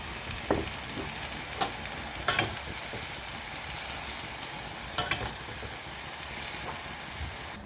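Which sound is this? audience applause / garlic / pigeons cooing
garlic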